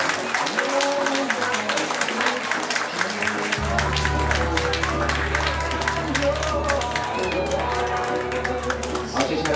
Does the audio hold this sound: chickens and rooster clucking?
no